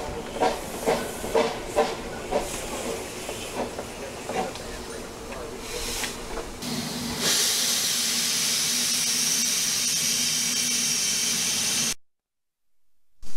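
Rhythmic chuffing from an 1889 Porter steam locomotive gives way to a loud, sustained hiss of escaping steam, close by, before cutting off abruptly.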